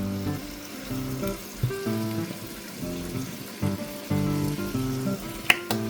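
Honey garlic pork simmering in a sticky honey sauce in a pan, a continuous close bubbling sizzle with uneven pops, rising and falling, plus one sharp clink near the end.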